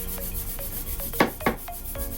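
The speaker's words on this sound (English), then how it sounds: "Mama's taking it and rubbing it down." Wood being rubbed down before painting, repeated short scraping strokes at an uneven rhythm, close and fairly quiet, with two louder rasping strokes in the middle.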